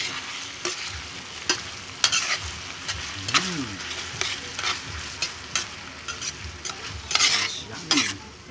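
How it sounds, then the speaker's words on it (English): Canned corned beef and egg frying in a pan, with a steady sizzle under repeated scraping strokes of a utensil stirring and mixing, plus occasional metallic clinks against the pan. "Then you have to mix it again."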